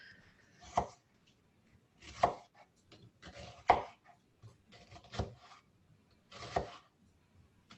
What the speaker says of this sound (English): I really appreciated that learning how to cut an onion.